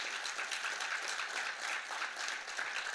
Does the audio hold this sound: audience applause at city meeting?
yes